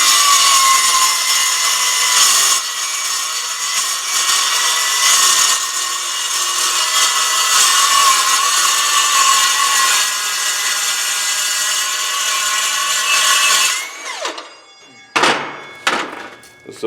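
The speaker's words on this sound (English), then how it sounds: "So I got to turn this saw and then run it through this way." A power saw cuts through metal stock for truck axle mounting plates on a 2010 International 4300, a loud sustained grinding whine that runs steadily for about fourteen seconds, then winds down into a few short bursts.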